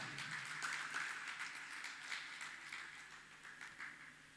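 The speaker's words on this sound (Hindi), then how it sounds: "तालियां बजा रहे" Applause from a gathered audience during a Jain religious sermon, a steady diffuse patter of many hands clapping at moderate, somewhat distant level throughout.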